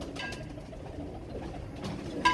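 Pigeons at a Hindi-speaking pigeon keeper's loft give soft, low cooing that murmurs steadily for a couple of seconds, with a faint flutter or call rising near the end and no talking.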